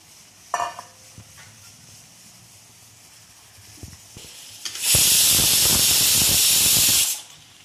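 Boiled mini potatoes for aloo matar being sautéed in a pan: a few light knocks and stirring sounds, then a loud, bright burst of hissing sizzle lasting about two seconds before it cuts off.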